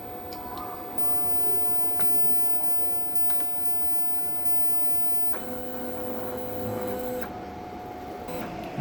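An inkjet printer runs a print head cleaning cycle. A steady mechanical hum and whir is heard up close, with a few faint ticks. The tone changes partway through as the pump stage shifts, and no one speaks.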